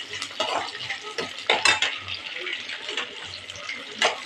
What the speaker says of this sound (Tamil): நம்ம கழுவி வச்சோம் இல்லையா கருவாடு, இதை சேர்த்து வறுக்கிறோம்.